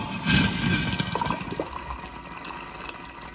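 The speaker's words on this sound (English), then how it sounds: "I'm going to pour it on the hot cocoa bomb" Hot water poured over a hot cocoa bomb in a mug, a steady close splashing and trickling pour that gradually settles, with no talking.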